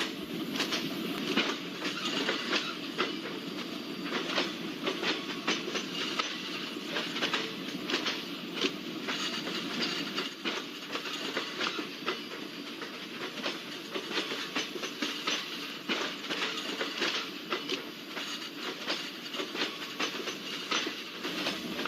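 Steady rumble and rhythmic clickety-clack from the Garib Rath Express rolling along Indian rails as a passenger train with ICF coaches passes alongside, loud and continuous with no talk.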